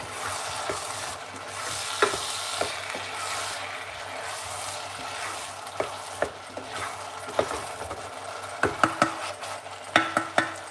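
A pan of food with mixed herbs stirred over heat, a low continuous sizzle under repeated sharp utensil scrapes and taps that grow busier toward the end, close by with no talk.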